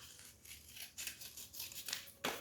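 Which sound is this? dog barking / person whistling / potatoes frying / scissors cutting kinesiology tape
scissors cutting kinesiology tape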